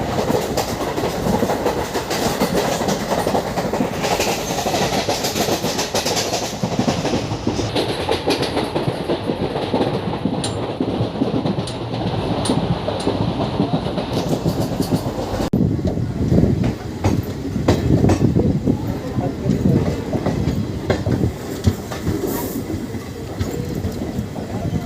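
The Mangalore–Mumbai Rocket SF Express rolls along the Konkan Railway with a continuous rumble and clickety-clack of wagons, a steady close interior roll that roughens and shifts partway through.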